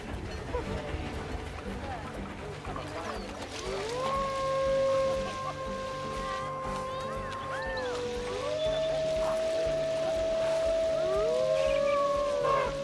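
Wolves in the zoo game Planet Zoo howl in long, sliding, sustained tones that rise and fall over several seconds, layered over a dense, steady ambient bed of other animal and environmental sounds.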